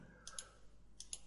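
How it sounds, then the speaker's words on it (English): A computer mouse gives two quick pairs of crisp, close left-click taps with a short pause between them, faint against a quiet room. "If I then left click here,"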